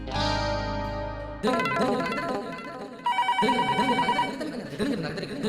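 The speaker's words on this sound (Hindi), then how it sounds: "जेठिया का ही फोन होगा।" A telephone rings in loud, repeating electronic bursts of tones, blended with other sound, with no talking.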